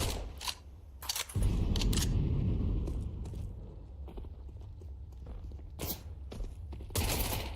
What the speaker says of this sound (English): Just fighting out there with the pistols.